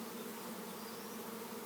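A swarm of bees buzzes close around a hand during a swarm capture, a dense continuous droning hum with no pauses.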